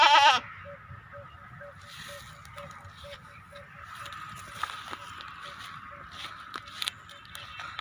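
A goat bleats once, loud and close, at a goat farm where bucks are being shown for sale. A low murmur of people and a row of faint, evenly spaced ticks follow.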